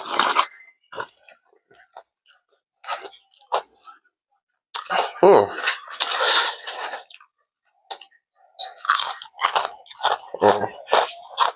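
Crisp baked jackfruit chips crunch in bursts of close, loud bites and chewing, with pauses between mouthfuls and a little throat noise.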